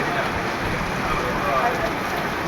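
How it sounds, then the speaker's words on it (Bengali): Steady, dense rain hisses continuously across the whole stretch, a heavy downpour pattering on surfaces with no pauses. "বৃষ্টি হচ্ছে বিশাল আকারে বৃষ্টি"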